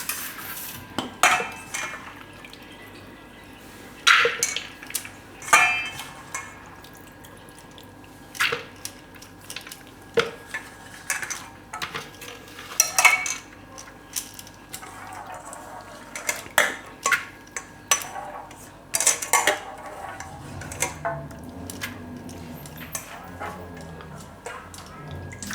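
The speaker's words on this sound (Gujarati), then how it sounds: "આ દાળ આપણે આમાં કુકરમાં નાખી દઈએ" Soaked chana dal is tipped and scraped into a pressure cooker, giving repeated metallic clinks and taps of a spoon against the steel pot, with soft wet shuffling between them.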